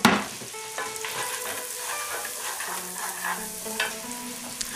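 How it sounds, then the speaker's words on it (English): Onions sautéing over slow heat for lobster chowder, a steady soft sizzle with occasional stirring scrapes and clinks, close and alone without voices. "When it comes to sautéing your onions, you want to cook them on a slow heat."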